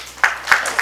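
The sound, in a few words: audience clapping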